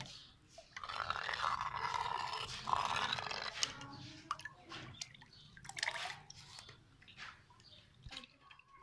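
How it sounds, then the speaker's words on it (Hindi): Water is poured from a glass into a thick milk-based thandai (sardai) drink, making a soft irregular splashing and trickling that fades in and out in short bursts. "थोड़ा सा हमने एक गिलास 2 पानी डाला है इसमें ताकि थोड़ा पतला कर लिया"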